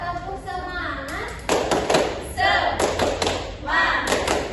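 A classroom of children performs the 'tepuk semangat' clapping routine, bursts of loud rhythmic group claps and desk thumps alternating with chanted voices.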